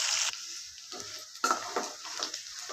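A second batch of chicken Manchurian pieces fries in a small amount of oil, a sizzle that bursts loudly and fades in waves as the pieces are moved, with light scraping of a utensil.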